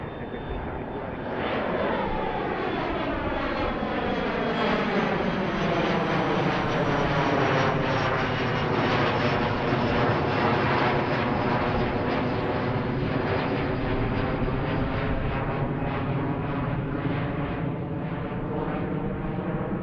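A Brickyard airliner takes off from Philadelphia International Airport, its engines roaring loud and steady throughout, with a sweeping whine that shifts in pitch as the aircraft passes.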